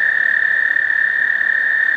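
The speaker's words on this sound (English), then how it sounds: "This is a toad." A toad gives a single sustained trill, a loud, close, steady high buzzing call held for about two seconds before stopping abruptly.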